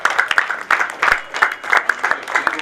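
Audience applause at the inauguration ceremony of a new IMC Khushi Herbal branch, a steady run of many hands clapping at moderate loudness with uneven bursts throughout.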